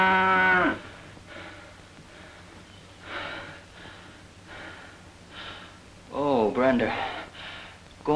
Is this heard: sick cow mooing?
yes